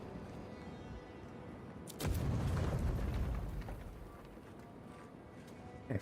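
A flame trap bursts in the fantasy game Avowed: a sudden loud whooshing boom that roars for a couple of seconds, then fades into a lingering fiery rumble over ambient game sound.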